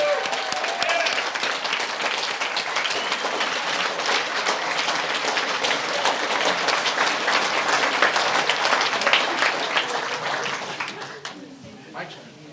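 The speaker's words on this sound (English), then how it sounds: "give him a huge round of applause" A seated conference audience at a regional event gives a long, loud round of applause and cheering that holds steady for about eleven seconds, then fades out.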